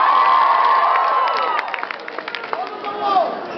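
An anime convention audience at a comedy talk cheers and claps loudly, a sustained roar with whoops fading into scattered claps and a few shouts.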